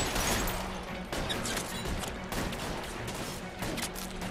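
A shootout in L.A. Noire fills the scene with chaotic gunfire, scattered sharp shots and louder bangs over a constant din of action noise, with no clear talk during it.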